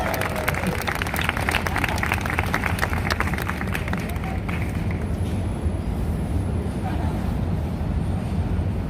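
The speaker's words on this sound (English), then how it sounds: "Give him a round of applause, ladies and gentlemen." Outdoor audience applause at a Broadway festival in Times Square NYC, a loud wash of clapping and crowd noise that fades after a few seconds into city background rumble.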